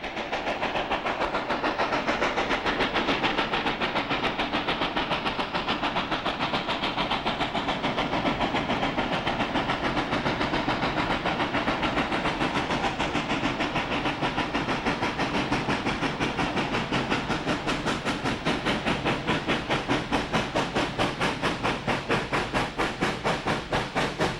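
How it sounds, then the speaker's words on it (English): Five large steam locomotives run together, producing a dense, steady roar of hissing steam and rolling rail noise with a faint rhythmic clatter throughout, loud and unbroken, with no voices. "Just listen to the sound of these mighty engines."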